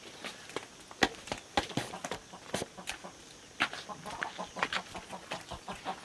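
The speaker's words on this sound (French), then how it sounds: "Donc voilà, il a des poules." Hens and chickens in a mountain henhouse give scattered, irregular clucks and short calls, some sharp and close, over a quiet background.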